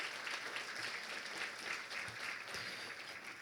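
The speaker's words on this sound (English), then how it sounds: "Clap it up one more time for her, please" Luncheon gala audience clapping steadily in a large room, a continuous wash of many hands at moderate distance, fairly quiet overall with no voices standing out.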